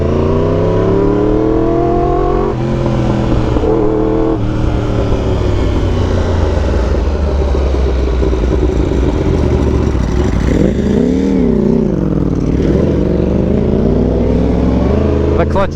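A Ducati Panigale V4R engine revs hard while riding, loud and close, its pitch climbing and dropping repeatedly through the gears over a constant rush of wind.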